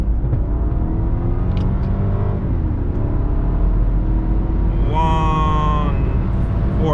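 Stock exhaust of a BMW E60 550i M-sport accelerating hard in second gear from a rolling start, a loud continuous engine drone rising steadily in pitch over several seconds, heard from inside the car.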